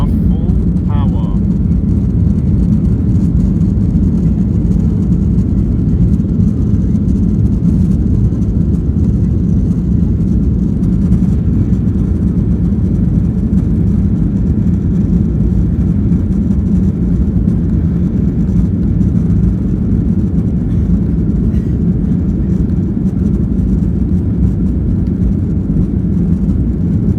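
A Ryanair Boeing 737-8AS(WL) roars at full takeoff power, its jet engines giving a dense, steady rumble heard from inside the cabin, loud and unbroken throughout.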